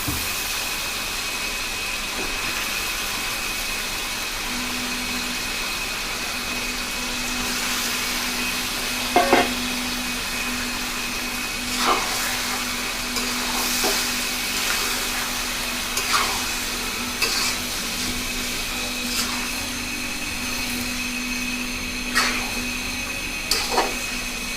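Chicken meat fries in spiced masala in a pan, a steady broadband sizzle with a faint hum running underneath, broken by occasional scraping clicks from the stirring spoon.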